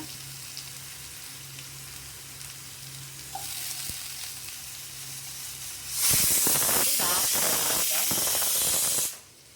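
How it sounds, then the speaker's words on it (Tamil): Food sautés in hot oil in a pan: after a quiet start, a loud, crackling sizzle bursts in and holds for about three seconds before cutting off abruptly. "இது வந்து எண்ணெயிலே கொஞ்சம் நல்லா ஒரு 2 நிமிஷம் வதங்கட்டும்"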